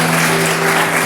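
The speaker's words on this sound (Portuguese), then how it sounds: "Aplauda o Senhor Jesus." Church congregation clapping together during a worship service, a dense, loud burst of applause that fills the whole short moment.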